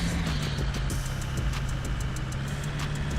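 A car engine in a car dealer simulator game drones steadily at a constant level, a continuous mid-pitched hum with a low tonal note running underneath, close and unbroken throughout.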